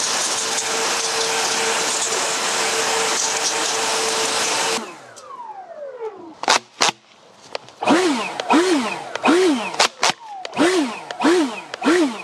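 An EGO LBP8000E twin-battery backpack leaf blower roars loud and steady for about five seconds, clearing wet leaves from long grass, then cuts off abruptly, leaving scattered short squeaky chirps and clicks.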